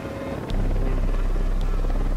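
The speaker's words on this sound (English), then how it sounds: "Helicopter inbound." A helicopter approaches in the video game Ghost Recon Wildlands, its steady rotor drone growing louder and fuller after a brief moment, with no voices heard.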